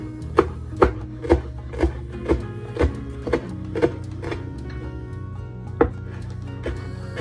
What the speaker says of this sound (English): We're gonna start off by chopping some cilantro.